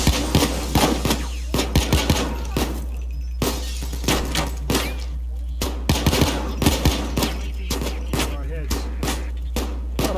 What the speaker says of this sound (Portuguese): já tá rolando trocação de tiro